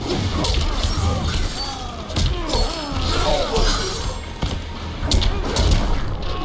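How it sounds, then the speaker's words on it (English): Heavy fighting blows from Mortal Kombat 11 as Scorpion battles Spawn: loud, dense thuds, crashes and smacks landing in rapid irregular bursts over a busy game soundscape, with no voices. "Oh my god, that blow!"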